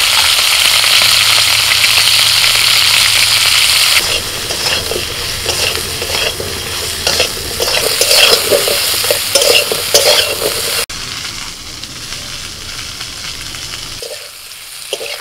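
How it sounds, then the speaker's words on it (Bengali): Pointed gourd (potol) fries in oil with salt and turmeric. A loud, steady sizzle runs throughout, with scraping and clattering from stirring in the middle, then a quieter, thinner frying hiss near the end. "ওই তেলের মধ্যে পটলটাও ভেজে নেব।"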